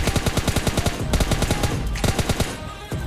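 Rapid automatic gunfire in PUBG Mobile Lite, loud repeated bursts with a fast regular rhythm that carry on for a few seconds before thinning out near the end.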